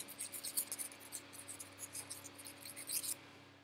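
A screwdriver tip smears grease around inside a Honda Shadow motorcycle wheel spacer, giving soft, close scratchy rubbing strokes in an irregular rhythm against a steady low hum.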